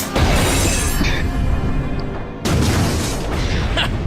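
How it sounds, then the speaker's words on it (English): An RPG rocket explodes and shatters a giant cliff face in two heavy, loud booms with crashing, crumbling debris, the second blast following after a brief dip. "He's survived getting hit by rockets, including this RPG that fragmented a giant cliff face."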